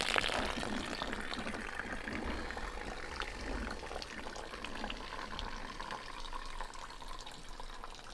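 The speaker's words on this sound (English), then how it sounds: "You can hear it watering." Water runs steadily into a stacked GreenStalk vertical planter and drains out below, a soft continuous trickle and splash heard quietly with no talking.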